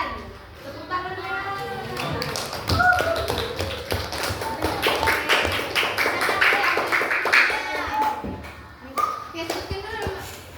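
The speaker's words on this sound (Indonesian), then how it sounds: "Tepuk tangannya." Children applauding in a classroom, a dense patter of hand claps that keeps going for several seconds while kids talk and call out over it.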